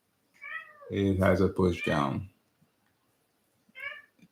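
A pet cat meows close by, one long drawn-out meow followed by a shorter one a moment later, with a person talking in the room.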